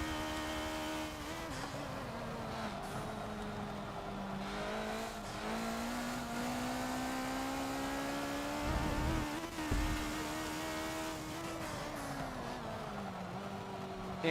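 Koenigsegg and Noble race cars in the Forza Motorsport 7 racing game, R Class lobby race: a loud, steady engine drone whose pitch climbs and falls through gear changes, with a brief rougher burst midway and no talking.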